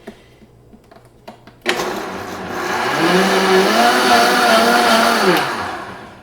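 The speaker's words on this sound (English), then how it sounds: "we're going to go ahead and blend this up for a little bit here and get the fats from the butter nice and distributed" A blender whirs up coffee with butter and lion's mane, starting abruptly after a quiet moment and holding a loud, steady motor whine with slight pitch shifts until it winds down near the end.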